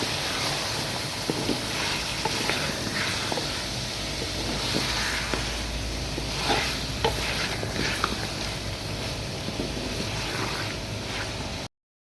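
Ginger garlic paste fries in a mutton karahi, a dense, steady, close sizzle that carries on throughout with light stirring scrapes and no talk.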